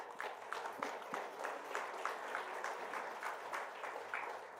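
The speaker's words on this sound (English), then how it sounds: "Give him a round of applause" Distant, faint applause from an audience welcoming a hike leader at a trails talk, a thin patter of claps running steadily throughout.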